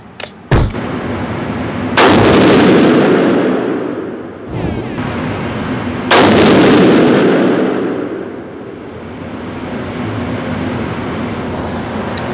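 Rifle firing Hornady ammunition, with two loud, sharp shots several seconds apart, each booming and rolling off into a long echo, plus a couple of small clicks at the start.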